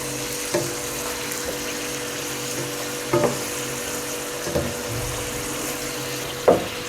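Lamb liver fries in a pan with a steady, close sizzle, broken by a few brief knocks and stirring sounds.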